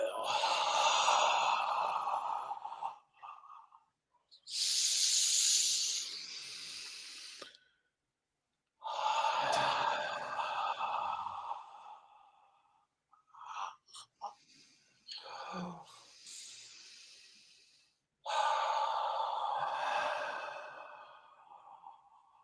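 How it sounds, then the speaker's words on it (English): Slow, deep breathing during a guided meditation: several long, airy inhales and exhales separated by short pauses, close and fairly loud with no speech. "let's begin now with an inhale. Exhale."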